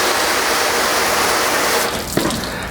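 Steady, loud water spray hissing onto a ceramic-coated car panel during coating testing, a continuous broadband rush that eases slightly near the end with a brief splash.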